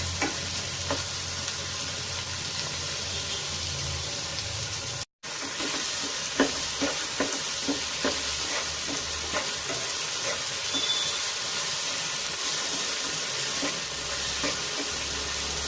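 Okra frying in a pan gives a constant close sizzle, with repeated scraping and stirring taps throughout and a brief silent break near the start.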